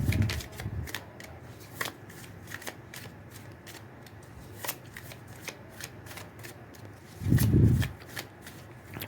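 Tarot and oracle cards are shuffled close by, giving a run of soft riffling flicks and taps with two louder bursts of cards being bridged and squared, at the start and near the end.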